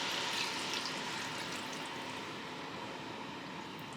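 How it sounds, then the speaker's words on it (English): Water poured into a cooking pot coated with oil while making nikujaga, a steady, soft continuous trickle and splash running without a break, faint and alone. "Then pour 2 cups of water."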